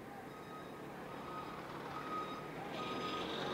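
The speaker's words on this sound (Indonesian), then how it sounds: "Aduh, ada macet dong. Ada truk Malang dong." A truck's reversing alarm beeps steadily and repeatedly in a traffic jam, set against a low continuous rumble of idling traffic nearby.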